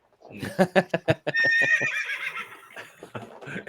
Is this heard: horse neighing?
yes